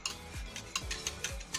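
A spoon scrapes and stirs milk pudding with agar-agar and sugar in a pot, giving close, faint rhythmic rubbing strokes about every half second with light metallic ticks.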